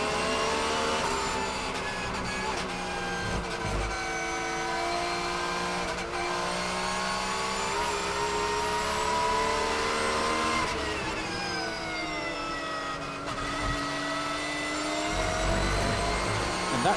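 A race car's 4-litre flat-six engine howls steadily at high revs, rising and dipping through gear changes and tricky corners at Circuit of the Americas, loud and continuous with no talking.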